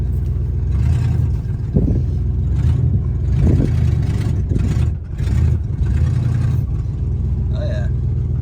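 Old GMC Caballero, sitting unused for over twenty years, rolling downhill with its engine running, a steady mid-pitched hum and whir under people talking nearby.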